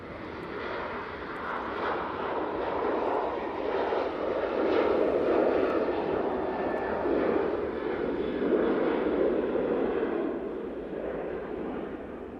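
A TUI airliner departing Manchester Airport roars past at a distance, its engine noise swelling to a broad rumbling peak in the middle and easing off toward the end.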